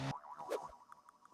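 A springy boing sound effect from the video game Steal a Brainrot, one short bright bounce near the start followed by a few softer repeated blips, heard alone with no talk.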